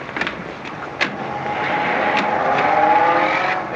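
A 1930s car drives along with a steady engine drone that swells slightly, with a few sharp knocks and rattles over it, and no voices.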